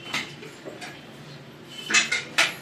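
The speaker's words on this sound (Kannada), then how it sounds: "ಈಗ ಕುಕ್ಕರ್ ಆರಿದೆ, ಓಪನ್ ಮಾಡೋಣ ಬನ್ನಿ." A pressure cooker lid being opened after the cooker has cooled, for an ash gourd and green gram saaru, heard as a few sharp metallic clatters and scrapes of lid against pot, the loudest near the end, over a faint quiet background.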